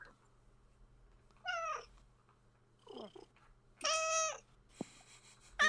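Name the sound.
cat Tabby meowing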